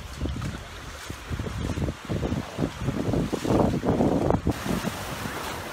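Mediterranean sea waves washing onto a sunny beach on Spain's Costa del Azahar, a steady rushing surf with swelling surges and wind buffeting the microphone, continuous and fairly close.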